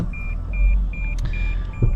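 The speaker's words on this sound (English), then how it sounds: "we're a little close to the side there, and it beeps at you" A 2019 Lexus IS300 F Sport Black Line sounds its parking proximity warning as it creeps close to an obstacle at the side. Five short, evenly spaced high beeps ring out inside the cabin over a low engine rumble.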